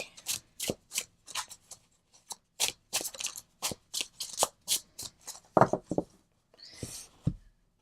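Tarot cards are shuffled close up in a series of quick riffling bursts separated by short pauses, crisp and papery, with no talking.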